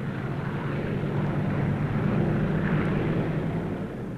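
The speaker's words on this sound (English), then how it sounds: "Round the clock, plane after plane." A continuous low drone of propeller aircraft engines hums steadily at moderate distance, with no breaks and no voices.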